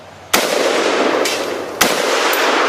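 An FN FAL rifle fires two loud, sharp gunshots about a second and a half apart outdoors, each followed by a long rolling echo.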